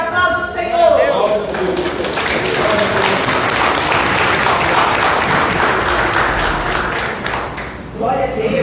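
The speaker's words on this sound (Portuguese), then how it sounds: "aplaude o Senhor" A church congregation claps through a worship service, a dense steady wash of applause lasting several seconds with voices mixed in underneath.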